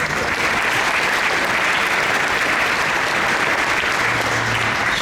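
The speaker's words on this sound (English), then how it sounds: "Let's also give our professional voice talent a round of applause." An audience claps steadily for a professional voice talent at an economic forecast event, a dense, continuous round of applause from a sizable crowd lasting throughout.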